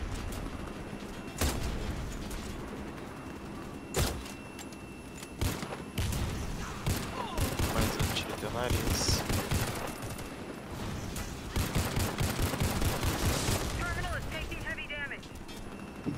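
Rapid gunfire bursts from the online shooter Warface, with sharp cracks and sustained fusillades throughout while players talk over the game.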